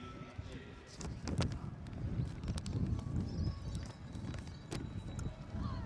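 Thoroughbred race horses warming up in a hack class at the Royal Adelaide Show, their hooves clip-clopping in a steady, uneven patter at moderate distance amid arena murmur and voices.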